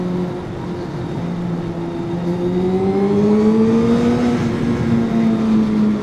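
A 750cc sportbike motorcycle engine drones steadily and then rises in pitch as it revs up, loud and close, with no talking.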